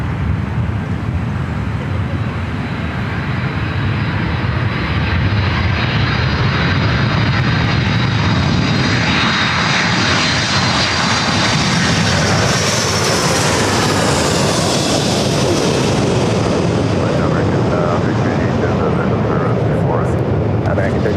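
A Delta Boeing 757 jet airliner inbound from Minneapolis lands at LAX, its loud, sustained engine roar filling the air with a slowly shifting whine as it passes close by, while radio voices talk faintly underneath.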